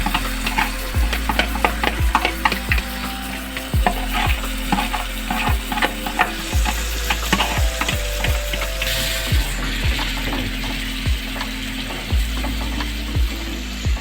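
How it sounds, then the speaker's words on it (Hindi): Masala sizzles steadily in a frying pan on a slow flame, while a spoon or spatula scrapes and taps the pan in a quick, regular rhythm. The cooking is close and clear, with no voices. "मैं उसी फ्राई पैन में इस मसाले को डालूँगी और इसको अच्छे से फ्राई करूँगी।"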